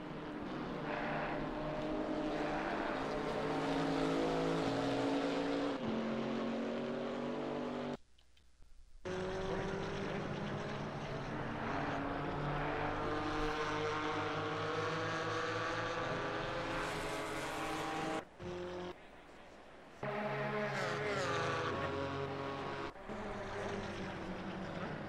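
GT4 race cars, a Chevrolet Camaro chasing a BMW, at Brands Hatch in wet conditions, engines droning loudly with rising and falling pitch as they pass, a continuous roar with a few brief gaps.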